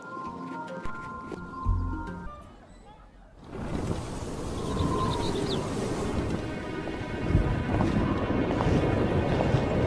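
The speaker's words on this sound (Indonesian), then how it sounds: "Angin kencang." Strong wind blows, starting faintly with some voice-like sounds and then surging into a loud, steady, rushing roar that keeps building to the end.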